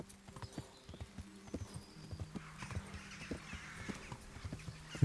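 Rhythmic horse hoofbeats clop steadily along a hard path in the video game Kingdom Come: Deliverance, fairly close and even in pace, with a faint background ambience.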